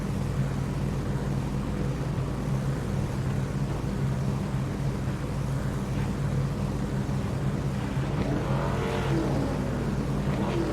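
Race car engines idling and firing up on pit road before a Homestead season-finale race, a steady dense rumble of many motors throughout, with a louder rising rev near the end.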